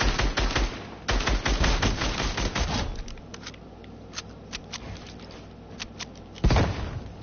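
Dual pistols in a video game fire a fast, loud volley of shots, then thin into sparse single cracks before one last sharp burst near the end.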